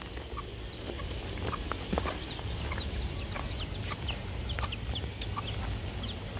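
A rooster guarding a hen clucks outdoors on grassy ground, short chirpy calls repeating irregularly over a steady low hum and outdoor background noise, moderately close and not loud, with no speech.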